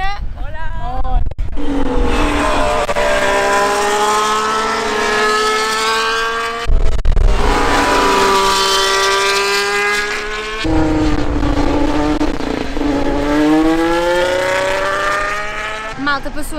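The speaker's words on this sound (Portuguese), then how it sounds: "Passou aqui o Land e o Vettel e o carro não soava lá muito bem." Formula 1 cars pass during practice at the Spanish Grand Prix, each one a loud rising then falling engine whine sweeping by. Three passes come in quick succession, close to the listener.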